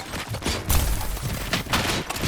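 Dense gunfire in the video game Robocop: Rogue City, a loud, continuous volley of overlapping shots and thuds with no talking.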